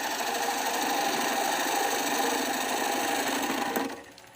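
A Thompson gouge cutting black walnut on a spinning lathe, a steady loud grinding hum with fine chattering texture that continues evenly, then drops away abruptly near the end.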